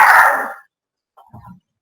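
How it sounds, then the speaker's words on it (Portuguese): A small dog gives one sharp, close bark, followed after a short silence by a faint, softer yip or whimper. "Minha cachorrinha tá latindo aqui."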